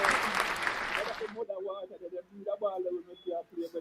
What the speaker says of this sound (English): Make a crowd clap here.